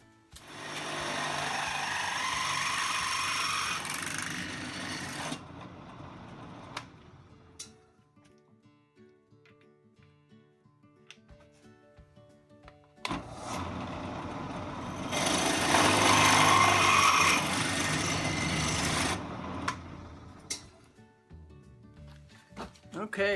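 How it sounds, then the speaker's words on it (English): A drill press boring holes in a backyard roller coaster wheel assembly runs in two long, loud, grinding bursts, separated by a quieter stretch with small clinks and handling noises. "I'm going to start out by bolting this thing up to my drill press and starting to chop some holes and things."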